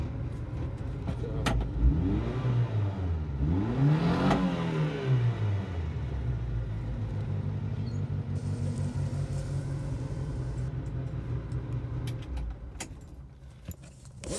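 Subaru Sambar engine idling and revving, with rising and falling pitch sweeps from throttle blips near the start, then a steady idle hum close to the microphone.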